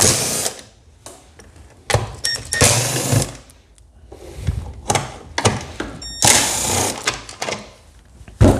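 A T25 Torx bit is used to back screws out of the top cover of a Husqvarna 240 chainsaw. Close, sharp bursts of whirring and rattling stop and start several times in an uneven rhythm, with no talking.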